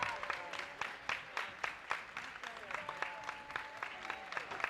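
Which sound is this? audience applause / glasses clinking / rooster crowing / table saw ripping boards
audience applause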